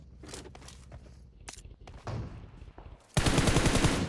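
Gunfire in the PUBG Mobile video game: scattered shots and thuds at first, then a loud, sustained burst of rapid automatic fire to the end.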